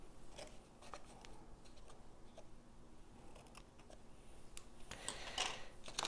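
Scissors snip through craft ribbon at an angle, a few short crisp cuts spread across the span with small handling rustles between, close and fairly quiet.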